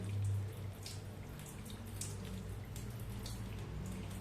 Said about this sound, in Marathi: हे बघा पाच मिनिटं आपण अशीच डाळ ठेवूया म्हणजे सगळं पाणी नितळलं जाईल